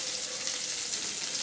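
Thinly sliced kohlrabi frying in hot oil in a home kitchen, a steady bright sizzle and crackle that holds evenly throughout, close and continuous with no voices.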